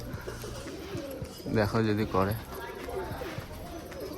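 Caged pigeons coo in a short, clear burst of low, throaty calls in the middle, with someone speaking over faint background noise.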